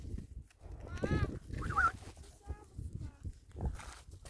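A pet goose named Zindan honks several times, short nasal calls repeating at close range while someone speaks and calls to it.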